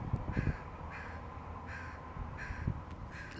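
A crow caws in a steady repeating series of harsh calls, moderately close, over a constant low outdoor rumble.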